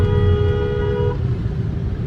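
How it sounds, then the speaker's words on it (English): A car horn blares in a long steady toot in busy Vietnamese street traffic, then cuts off, leaving a rumble of engines and road noise behind; no one speaks. "everybody's honking their horns"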